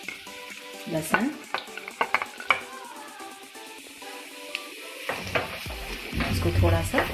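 Onion and garlic frying in oil in a pan, with a steady sizzle, stirring scrapes and a few utensil clinks against the pan, loud and close throughout.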